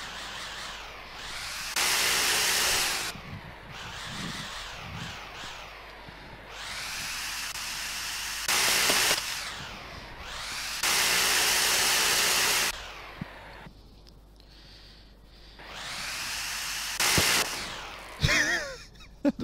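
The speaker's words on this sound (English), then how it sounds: "And we have a drill." A power drill in a virtual reality game whines and hisses in repeated bursts of varying length, loud and close, with short gaps between runs.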